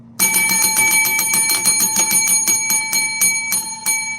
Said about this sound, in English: It seems like you guys want me to tap the bell.